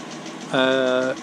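A warmed-up Land Rover Series 3 engine runs steadily at idle. A short voiced tone briefly rises over the engine noise near the end.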